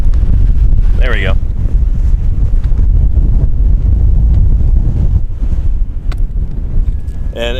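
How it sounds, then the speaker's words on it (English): Strong wind buffets the microphone at an outdoor dinosaur excavation in dry Wyoming country, a loud continuous roar with short whistling, bird-like chirps near the start and end. "It's just windy and dry."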